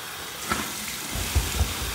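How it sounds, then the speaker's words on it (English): Warm water runs briefly for a rinse after a wet shave, a soft close splashing trickle with a couple of small splashes, no talking. "Here's my warm water rinse"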